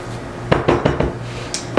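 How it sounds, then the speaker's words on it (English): A spoon stirs salt into bread dough in a bowl, making several quick scraping knocks in a loose rhythm. The sounds are close and fairly loud, with no talking. "We're going to stir all that in."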